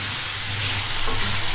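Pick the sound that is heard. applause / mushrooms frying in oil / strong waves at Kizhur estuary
mushrooms frying in oil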